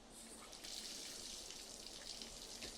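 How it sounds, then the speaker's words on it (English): Steady running water from a bathroom faucet in the Omori video game, a continuous bright hiss with small splashing detail, fairly loud and alone. "the bathroom faucet."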